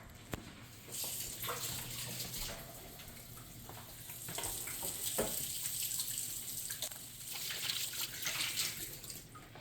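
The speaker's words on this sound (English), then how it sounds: "you're going to need to wash your hands with soap and water" Tap water runs steadily into a sink during handwashing with soap before baking cupcakes in a kitchen, a continuous close splashing hiss with no talking.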